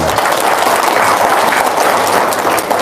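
An audience at a gathering in Kandang Embe applauds on cue, a loud, continuous wash of many hands clapping with no individual claps standing out.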